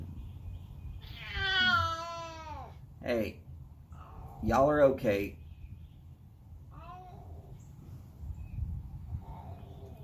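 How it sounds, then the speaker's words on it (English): Two cats trade long, wavering howls and yowls in several separate bursts, heard fairly faint against a quiet background, while a person speaks briefly. "Two cats decided that they needed to sniff each other's butts, and then they decided to howl at each other."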